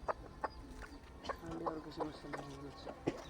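A desi village hen clucks in short, soft calls at a farmyard coop, a little distant, with people talking quietly around it.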